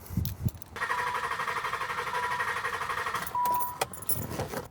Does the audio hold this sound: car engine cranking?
yes